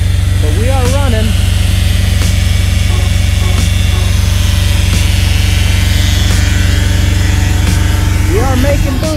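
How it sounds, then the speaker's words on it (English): Supercharged 1.2L engine in an AMR500 Mirage dune buggy runs loud and steady throughout, a constant deep drone with a supercharger whine, while someone talks over it near the start and end. "I don't know if you'll be able to hear me over this supercharger. It's pretty flipping loud."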